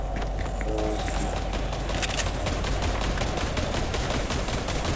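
Rapid gunfire from a Fortnite match crackles in quick bursts over a steady background, fairly loud and close, with brief electronic game tones early on.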